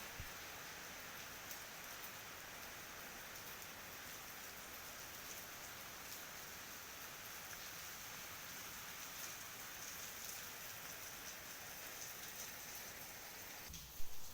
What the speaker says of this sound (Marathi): आज आमच्याकडे ना खूपच पाऊस आहे.